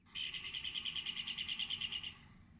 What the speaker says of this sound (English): This is what a cactus finch sounds like.